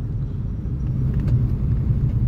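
A car engine drones steadily during a test drive on a road trip, a continuous low rumble with a slight rise partway through, close and fairly loud, with no voice over it.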